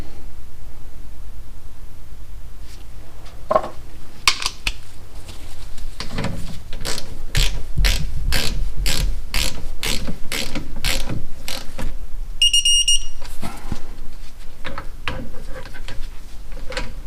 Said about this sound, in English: Tighten these down to 20 foot-pounds.